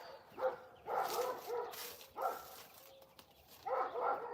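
A large dog gives a series of short, whining yips and soft barks in a garden during container and in-ground planting, coming in several separate bursts at moderate distance.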